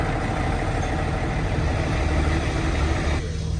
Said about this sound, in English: A 90 horsepower Isuzu engine. 40 mile an hour. 4-wheel drive